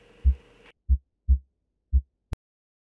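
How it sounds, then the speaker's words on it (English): Beating heart sound effect: four deep, thumping lub-dub pulses at an uneven slow pace, close and alone, following a brief low rumble and ending with a sharp click. "seeing the moon pulsate along with the sound of a beating heart"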